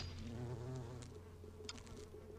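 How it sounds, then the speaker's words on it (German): A thin insect buzz drones steadily from a mosquito in the Android RPG Lesabel, a continuous whining hum at low volume with no talk over it. "Eine Mücke."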